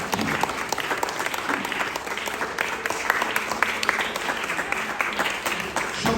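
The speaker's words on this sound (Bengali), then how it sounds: "সবাই জোরে হাতের তালি দিতেই থাকো যতক্ষণ না শেষ হয়।" Audience at a music camp clapping hands loudly and steadily, a dense sustained patter of many hands with faint voices mixed in throughout.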